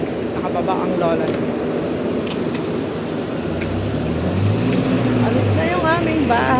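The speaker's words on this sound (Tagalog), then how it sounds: "Alis na yung aming bus dyan" A bus pulls away from the roadside outside a building, its engine rumble rising and then fading into street noise while people talk close by.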